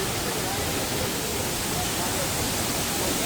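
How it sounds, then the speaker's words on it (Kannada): Jari Falls near Chikkamagaluru, a continuous broad roar of falling water, even and unbroken, filling the whole scene at moderate loudness. "ಜರಿ ಫಾಲ್ಸ್."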